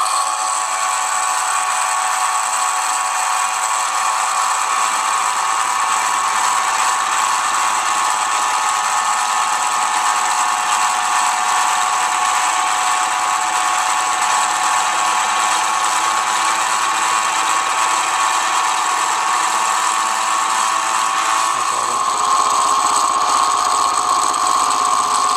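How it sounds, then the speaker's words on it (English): A machine tool cuts a small model caster part clamped tight in a vise, a steady, loud mechanical whir with a high whine that runs unbroken, then shifts pitch slightly near the end. "I'm going to cut down to a depth of 150 on the back side here"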